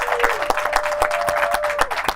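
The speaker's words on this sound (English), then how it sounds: "if I could get the biggest round of applause" Audience applause at a restaurant industry panel, a dense wash of clapping with a few sharper near claps standing out in a steady rhythm, plus a faint sustained tone running underneath.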